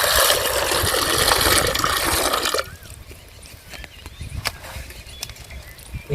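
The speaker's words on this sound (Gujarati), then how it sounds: "પછી આપણે પાણી નાખીશું." Water pours into a pot of boiled potatoes and peas as a loud, broad gush for a couple of seconds, then drops away to quieter trickles and small splashes.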